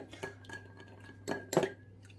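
Spoon clinking against a dish while crushed biscuits and milk are mixed for a strawberry cream dessert, a few scattered light taps then two louder scraping clinks close by, no talking.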